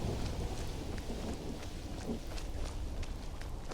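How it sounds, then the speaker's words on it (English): Low rolling thunder in a Skyrim video game rumbles continuously, with a light patter of rain underneath and no voices. "I hear thunder everywhere, not a ton of rain."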